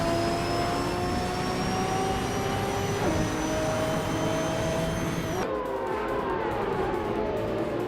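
A 2017 Aston Martin Vulcan AMR Pro racing in a video game, a loud high-pitched engine whine holding steady, then an abrupt shift to a lower, rougher tone near the end, no talk.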